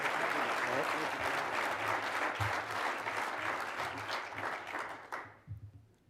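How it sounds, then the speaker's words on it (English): Warm crowd applause, dense and steady clapping that thins and fades out near the end, with a voice briefly audible as it dies down. "Stephen Perry, let's give him a round of applause, if you will."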